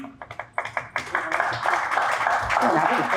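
A few people clap in a quick scattered burst, which soon gives way to murmuring voices and room chatter.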